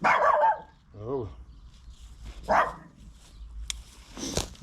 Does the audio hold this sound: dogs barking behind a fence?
yes